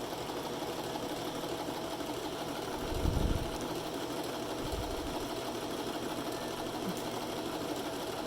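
A Singer Simple 3116 sewing machine stitches at a steady whirring hum, close and continuous, with a brief heavier thump partway through.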